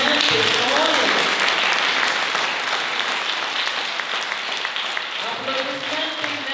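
An audience applauds the Gintaras choir of Kaunas culture centre at a museum anniversary celebration, a loud sustained wash of clapping that slowly thins, with a voice speaking over its opening and closing moments.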